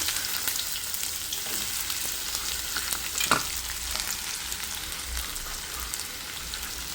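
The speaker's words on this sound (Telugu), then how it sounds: "ఈ తరిగిన ముక్కల్ని నూనెలో వేయించుకొని" Sliced spiny gourd pieces fry in oil in a pan, giving a steady dense sizzle with scattered crackles and a few stirring scrapes, close and continuous with no voices.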